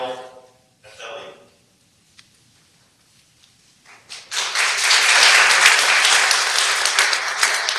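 Applause at a city council meeting for a first-place student winner, starting after a few seconds of quiet and swelling into sustained, fairly loud clapping from the room.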